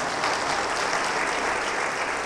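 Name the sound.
congregation clapping along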